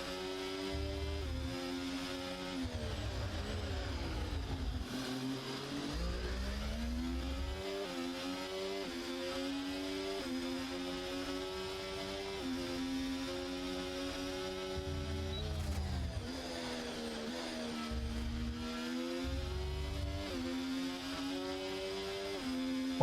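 Ferrari race car engine revving and shifting through gears on the Bahrain circuit, a steady loud engine drone with rising and falling pitch sweeps throughout.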